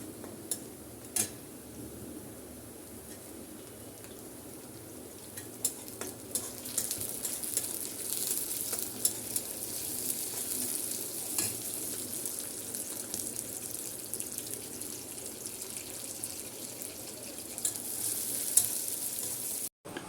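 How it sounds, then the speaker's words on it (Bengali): Onions frying to a medium golden colour in a pan on the stove, being stirred; a steady soft sizzle with scattered scrapes and clicks throughout, fairly quiet and without talk. "আমি এখন পেঁয়াজটা ভালো করে ভেজে নেব"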